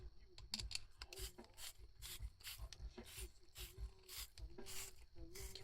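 A cleaning tool spun inside a Yonex Precision 8.0 stringing machine clamp, a faint close rubbing and rasping with soft ratchet-like clicks repeating in a fairly steady rhythm.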